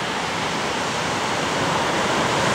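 Ocean surf breaks continuously at a surf spot, a loud, broad wash of rushing white water that stays steady and close throughout.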